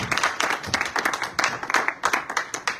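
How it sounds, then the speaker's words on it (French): A church congregation applauding after a sermon, with uneven bursts of clapping from a modest crowd, close and lively, rising and dipping throughout. "Applaudissez pour la parole de Dieu"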